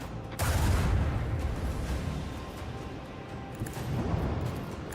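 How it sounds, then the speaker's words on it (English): Heavy booming macro cannon fire in the video game Warhammer 40,000: Rogue Trader, with rumbling low-end blasts, a dense continuous barrage that swells loud near the start and again toward the end. "I want to hear the macro cannons roar."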